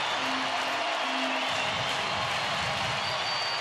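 A Texas Rangers home baseball crowd in a night game against Oakland, a steady roar of cheering and noise from the stands with no break and no single burst standing out.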